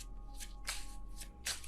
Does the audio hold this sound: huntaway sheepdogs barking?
no